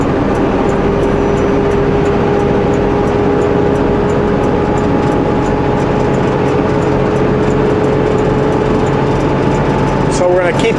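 Continuous loud engine roar and wind rush of a quad ATV on a mountain trail, running at a steady pitch throughout with a brief disturbance at the end.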